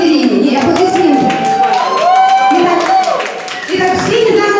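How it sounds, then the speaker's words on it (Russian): A crowd at a celebration claps for Ekaterina, with scattered applause and some cheering rising and falling under a speaking voice that dominates most of the clip. "Аплодисменты Екатерине"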